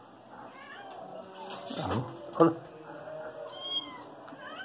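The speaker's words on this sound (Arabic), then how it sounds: "كروبات القطط يبحثون عن الطعام" Several small kittens meow in high, repeated cries while searching for food, close by, with one louder meow standing out midway and a person speaking briefly.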